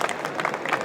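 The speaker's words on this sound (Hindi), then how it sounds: "बहुत बहुत धन्यवाद तालियों के लिए" Audience clapping at an event in the Kashi Vishwanath temple courtyard, a brief, dense burst of applause from a crowd, close and steady throughout.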